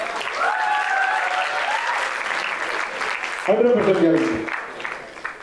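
Enthusiastic audience applause at an Indian film event, steady clapping and crowd noise running throughout while someone speaks over it into a microphone.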